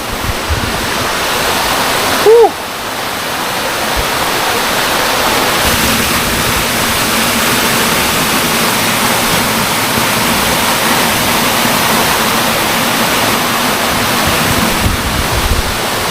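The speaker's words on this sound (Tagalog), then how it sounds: "ito yung falls na wow" Agbalala Falls, a waterfall beside a beach at Abra de Ilog, gives a loud, steady rush of falling water that fills the whole scene, with a brief bump partway through and no talk.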